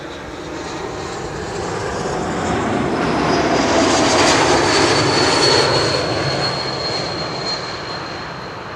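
A KLM wide-body airliner arriving at Schiphol, a broad steady engine roar that swells to a peak midway and slowly fades, with a faint high whine above, alone with no talk.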